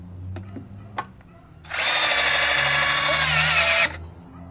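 A cheap Harbor Freight cordless drill drives a screw while a raised garden bed is built. A few light knocks come first, then one loud, steady whirring burst of about two seconds, close by, that stops abruptly.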